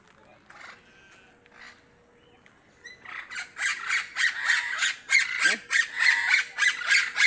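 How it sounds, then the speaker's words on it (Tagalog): A parrot at an eco park gives a rapid series of loud, harsh squawks, starting softly after a few quiet seconds with occasional calls, then building into a steady, close, repeated squawking run. "Ang ingay ni parrot."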